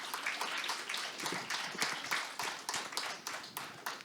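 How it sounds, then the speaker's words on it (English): An audience applauds at a panel discussion during a learning and development summit and awards event, with dense, continuous clapping at moderate distance. "Can I have a big round of applause to the real people"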